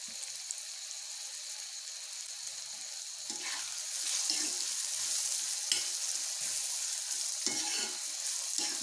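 Potato and tomato bhaji frying in a pan, a steady low sizzle with intermittent scraping stirs that grow busier partway through.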